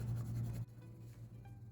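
Crayon colouring on paper for a self portrait, a steady close scratchy rubbing that stops abruptly partway, leaving quiet room tone.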